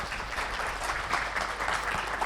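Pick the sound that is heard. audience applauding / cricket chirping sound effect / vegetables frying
audience applauding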